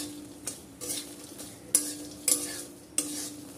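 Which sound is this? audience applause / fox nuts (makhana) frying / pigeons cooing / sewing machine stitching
fox nuts (makhana) frying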